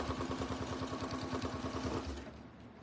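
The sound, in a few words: sewing machine stitching tape to vinyl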